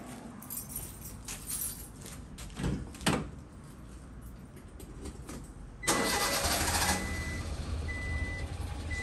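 A Honda Acty mini truck engine with a new fuel pump cranks briefly and catches, then settles into a steady, smooth idle, close by, after some clunks and handling noises.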